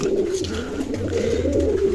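Pigeons coo softly and continuously in a low, rolling murmur close by in a cage, with no other sounds.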